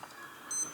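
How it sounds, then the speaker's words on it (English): A bedtime alarm gives a single short electronic beep, faint against quiet room tone. "That's my bedtime alarm."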